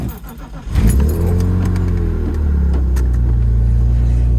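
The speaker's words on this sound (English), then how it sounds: "I'll do a little startup real quick." BMW E36 with a swapped S50B32 inline-six starts up: a short cranking burst, then the engine catches and settles into a loud, steady idle close by.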